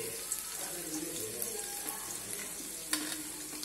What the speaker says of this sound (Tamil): ஆனியனை மட்டும் போட்டுட்டு ஃபர்ஸ்ட் நல்லா டீப் ஃப்ரை பொன்னிறமாக ஆகிற வரைக்கும் ஒரு 2 minutes ஃப்ரை பண்ணிக்கோங்க